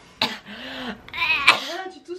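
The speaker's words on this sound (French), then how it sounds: "Tu tousses sur ma peluche." A few sharp, raspy coughs burst out close by, mixed with a voice talking between them, during a climb of Mount Fuji.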